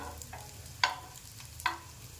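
Coriander vadi shallow frying in a pan, a quiet low sizzle broken by two sharp clacks of a utensil against the pan, close and without talk.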